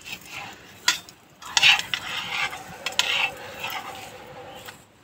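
An egg frying in a pan out in hot sun, with a soft steady sizzle and a few sharper clinks and scrapes of a utensil against the pan; no voices.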